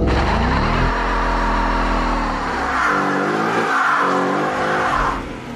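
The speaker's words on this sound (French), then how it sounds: "elle a même un assistant pour burner afin de chauffer les pneus arrière avant la course" 2015 Ford Mustang GT V8 does a burnout to heat its rear tyres: a loud, sustained engine roar with revving swells and tyre squeal, close and continuous throughout.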